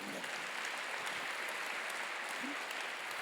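A church congregation at a theological seminary graduation service breaks into steady applause, a dense wash of clapping that holds at an even, moderate level throughout.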